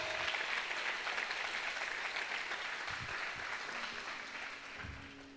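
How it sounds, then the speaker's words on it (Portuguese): A church congregation applauds during a Portuguese-language sermon, a steady wash of many hands clapping that holds for several seconds at moderate loudness, fading slightly toward the end with a few low murmurs. "Aplauda o Senhor."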